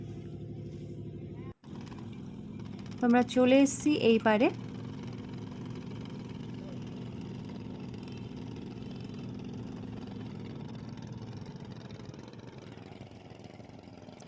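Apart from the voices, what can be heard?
motor boat crossing the Ganges river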